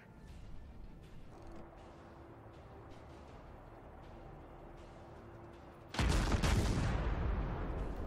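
Warship guns firing at a Colorado battleship in World of Warships: a steady low hum of engine noise, then a sudden loud, booming salvo that rolls on to the end.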